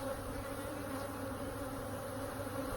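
Honey bees buzz steadily at a beehive, a dense continuous drone of many insects close by with a constant pitch and no pauses or voices.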